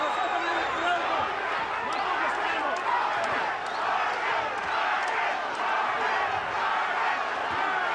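A boxing arena crowd at a Mayorga versus Vargas fight chants Vargas's name, a steady dense roar of many voices filling the space with rhythmic shouts.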